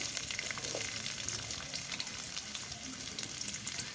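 Chopped onion frying in oil in a wok, a steady, close sizzle that carries on without a break for a few seconds, with no voices.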